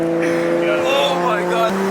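An 850 hp Nissan R33 GTR V-Spec with a 2.8-litre RB28 stroker engine and anti-lag roars loudly up close, its revving engine and rough popping bursts dominating, with excited voices over it.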